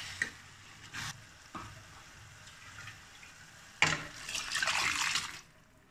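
Fresh curry leaves hit hot oil in a pan of Punjabi aloo matar, bursting into a loud crackling sizzle after a few quiet clinks and stirring taps, then fading out; no one speaks.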